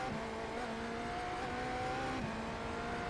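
BMW M Hybrid V8 LMDH race car engine in the iRacing simulator, a continuous near, loud engine drone with steady harmonic tones that shift slightly in pitch, running alone without talk.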